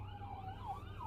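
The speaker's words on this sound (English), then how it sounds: "there's an ambulance. Can y'all hear that shit?" An ambulance siren wailing, rising and falling in pitch, heard from a distance, faint and steady over a low hum.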